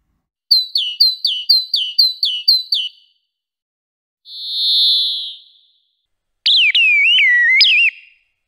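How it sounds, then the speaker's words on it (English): Synthesized bird calls: a run of eight quick, evenly spaced chirps, then a lone soft breathy swell, then a longer warbling whistle with sliding pitch, all clear and close against silence. "making animal sounds from scratch using synthesis, particularly birds"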